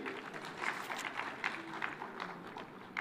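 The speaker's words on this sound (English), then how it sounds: "Let's give her a round of applause" Conference audience at the Devolution Conference in Homa-Bay claps in a faint, uneven patter of scattered hands that rises and falls softly and stays fairly distant.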